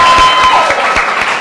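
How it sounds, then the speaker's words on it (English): An audience on a talk show claps briefly, a short loud burst of many hands with faint cheering mixed in. "Round of applause"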